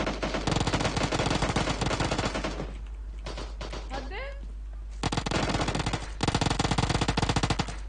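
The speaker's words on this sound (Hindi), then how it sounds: "चार पांच शॉट उतर गए।" Rapid gunfire in PUBG Mobile rattles in dense automatic bursts, with loud close volleys at the start and end and a short gap between them in which a brief voice exclamation can be heard.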